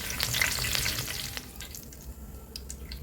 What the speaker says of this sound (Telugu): ఇప్పుడు ఇదే గరిటెలోకి ఒక గుప్పెడు కరివేపాకు వేసుకొని క్రిస్పీగా అయ్యేదాకా ఫ్రై